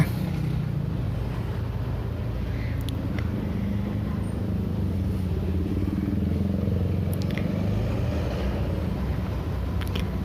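Slow road traffic in a jam on Jalan Kosambi Telagasari after a train crossing, a steady, low rumble of engines with faint passing noise.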